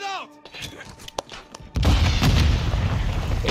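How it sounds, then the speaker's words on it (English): Frag grenade explosion in a shooter game, a loud sudden boom that turns into a sustained rumbling roar after earlier scattered shots and thuds, with voices around it. "I take the frag grenade and I throw it right in between the right chart"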